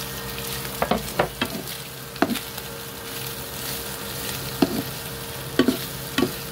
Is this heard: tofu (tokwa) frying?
yes